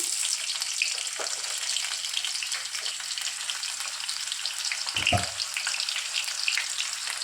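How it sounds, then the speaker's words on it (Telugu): Thinly sliced onions fry in a couple of tablespoons of hot oil with a continuous bright crackling sizzle. A brief low knock sounds near the end; no one speaks. "ఆనియన్స్ బ్రౌన్ కలర్లో వచ్చేంత వరకు బాగా ఫ్రై చేసేసుకోవాలి"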